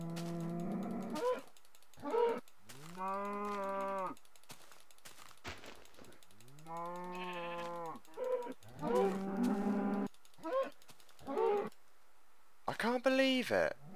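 Minecraft cows moo repeatedly in the game, several drawn-out, fairly loud moos with gaps between them, mixed with short game sound effects.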